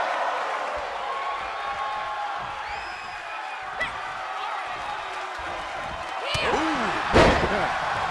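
Sidewalk slam in WWE 2K23 women's match between Giulia and Mayu Iwatani, a heavy thud on the mat late in the clip over steady crowd noise and cheering, with commentary voices throughout.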